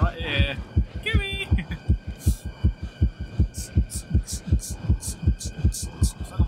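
Steady thumping heartbeat in the video game Medusa's Labyrinth, a fast regular pulse of low thuds that runs throughout, with brief chirpy game tones over it early on.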